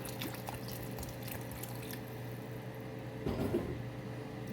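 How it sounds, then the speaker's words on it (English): Water pours and trickles into a pot of red pork stew with corn on the cob, a soft steady splashing with a brief fuller gush near the end, close and alone. "Adding some more water."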